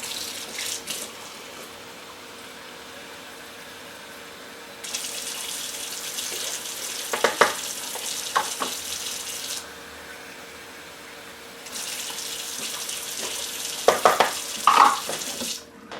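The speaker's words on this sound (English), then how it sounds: "and 1½ cups of warm tap water" A kitchen tap runs warm water in two steady bursts of rushing water, with a few clinks and knocks of a container between and near the end.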